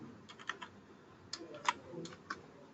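Scattered keystrokes on a computer keyboard during setup work in Oracle Financials, with a handful of separate clicks and short pauses between them, close and fairly quiet, with no one speaking.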